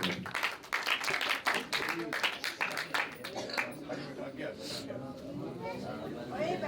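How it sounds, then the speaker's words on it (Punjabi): An audience claps at a poetry recital at Punjab Bhawan, Lahore: a burst of applause for the first few seconds that thins out and fades, with a voice speaking over it. "ਤੁਹਾਡੀਆਂ ਬਹੁਤ ਸਾਰੀਆਂ ਤਾੜੀਆਂ"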